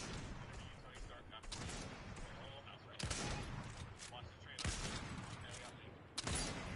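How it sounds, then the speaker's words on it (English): Bursts of rapid gunfire in Fortnite shoot at trees, coming in several loud, sharp volleys separated by short pauses, with players talking between and over the shots. "Shoot these trees"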